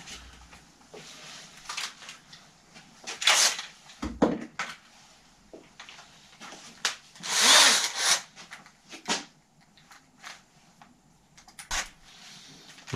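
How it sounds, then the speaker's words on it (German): Short bursts of a power drill whirring on and off several times, close by, with scraping and handling noises between runs. "Und eine Bohrmaschine"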